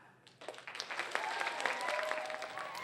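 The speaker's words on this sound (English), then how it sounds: "There was plenty of applause as students at the West Hazelton Elementary Middle School experienced a day of illusion." Elementary and middle school students at a magic show applaud, clapping starting sparsely and quickly building into dense, lively applause with excited voices mixed in.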